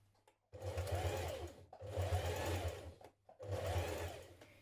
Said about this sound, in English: Then when you've pinned that all the way around, we're going to stitch that seam.